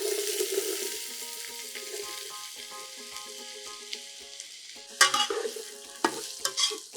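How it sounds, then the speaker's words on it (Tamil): Onions sizzling and frying over high flame in a pan for mutton curry, with a few scraping stirs near the end and a faint tonal hum underneath. "நல்லா ஹை ஃப்ளேமில் வச்சு வதக்கணும்"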